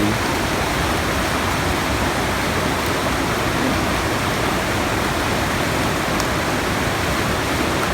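Bidadari waterfall in Aceh, a steady, loud, dense rush of falling water that stays constant throughout with no voices.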